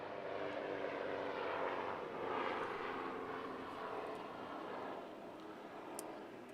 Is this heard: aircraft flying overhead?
yes